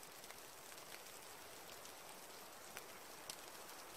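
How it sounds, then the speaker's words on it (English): Small snow pellets patter on a tarp at a cold autumn campsite, a faint, dense hiss of tiny ticks with a few sharper isolated hits. "It's not rain on the tarp. It's little pellets of snow."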